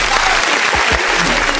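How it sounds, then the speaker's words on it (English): Brief, steady hand clapping during a podcast episode, even and continuous throughout with no pause. "we giving you applause for that"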